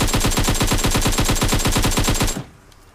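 An AK assault rifle fires in PUBG Mobile, a fast, loud burst of about twenty evenly spaced shots over two seconds that stops abruptly, leaving a brief fading tail.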